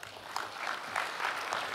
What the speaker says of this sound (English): please, a round of applause for Google and Quick Labs